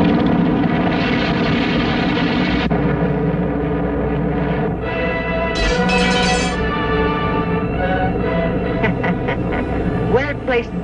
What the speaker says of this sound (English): Giant bomber being stolen.